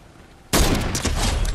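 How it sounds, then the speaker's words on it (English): Fortnite gunfire starts abruptly after a quiet moment and keeps going as a loud, dense burst of rapid shots close by, with no talking over it. "Do I hear shooting?"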